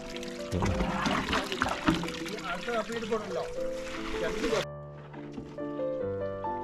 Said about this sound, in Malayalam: ഒരു 1/4 ഭാഗം കുറച്ച് വെള്ളം മാറ്റിയിട്ട് പുതിയ വെള്ളം ഒഴിക്കും